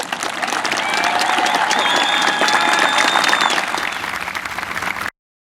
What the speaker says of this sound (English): Please join me in honoring this group with a round of applause.